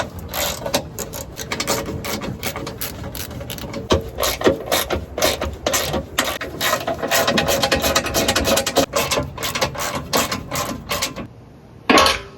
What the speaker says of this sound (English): I can now start to remove the 6 bolts for the skid plate